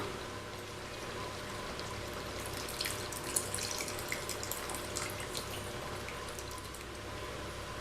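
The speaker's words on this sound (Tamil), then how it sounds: "இனி இதில் புளி தண்ணி ஊற்றிக்கலாம்" Tamarind water pours steadily into a pot of simmering elephant yam curry with a continuous splashing, bubbling wash of sound and a few brief louder splashes, with no voices.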